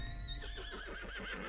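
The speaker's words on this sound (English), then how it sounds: "Wild horse nearby?" A horse whinnies in a video game, a loud, close, wavering neigh with several quick rising and falling pulses over steady background noise.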